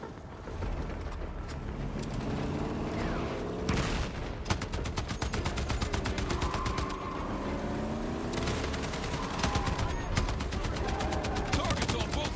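Rapid automatic gunfire from a Battlefield 6 campaign firefight, sustained bursts of closely spaced shots with brief pauses, loud and dense against a busy battle ambience, with faint voices mixed in.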